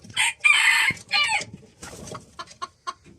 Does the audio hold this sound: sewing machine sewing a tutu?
no